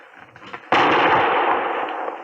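A single sharp Springfield rifle shot at a target in an old-time radio western, a sudden loud crack with a long rumbling decay after a few faint soft sounds.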